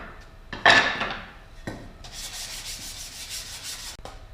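Hand sanding the edges of wooden toolbox pieces, a few scratchy rubbing strokes followed by steadier, softer back-and-forth sanding, close up and fairly quiet.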